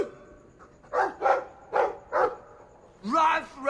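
A dog barks in the video game Dragon Age 2, four close, loud woofs in quick succession followed by a longer bark or growl, with speech-like tones mixed in.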